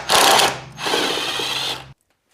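A power ratchet on an extension zips 10mm bolts out of an intake box on a 2022+ Subaru WRX, two close, loud whirring bursts, the second longer, then silence.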